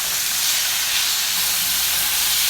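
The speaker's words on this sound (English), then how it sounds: "And we'll just stir fry this." Blanched dragon tongue beans stir frying in a hot pan with pepper flakes, a steady loud hiss of sizzling and steam running unbroken throughout, with no talking.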